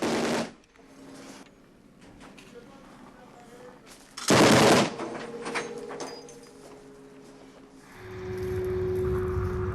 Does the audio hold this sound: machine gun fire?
yes